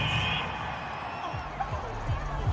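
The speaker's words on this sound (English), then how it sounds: "This home crowd, they're happy." Home crowd at a Giants at Dolphins football game roaring steadily after a big third-down call, a broad sustained swell of cheering with commentators talking over it.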